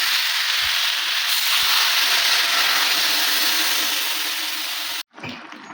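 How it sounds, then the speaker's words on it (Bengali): Water pours into a pan of frying mustard stems in a vegetarian curry, a loud sustained rushing hiss and sizzle that cuts off abruptly near the end, followed by a brief quieter clatter. "জল ঢেলে দেবো"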